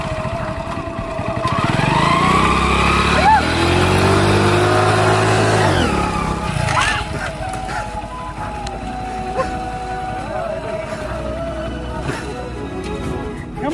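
A motor vehicle engine revs hard and close, climbing then dropping back to a rough idle, with voices in the background.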